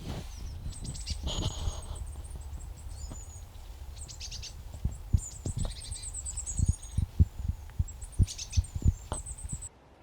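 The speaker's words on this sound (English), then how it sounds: "It's just so relaxing listening to the birds." Birds chirp and sing in bursts high overhead in hillside woods, with rustling and soft thumping footsteps or handling noises close by throughout; no one talks.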